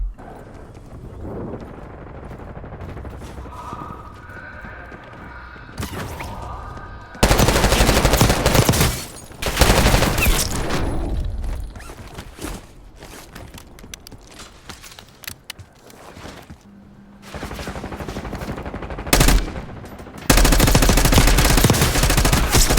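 Gunfire during a fight in the video game Warzone, heard as loud bursts of rapid shots broken by quieter stretches of game ambience and movement.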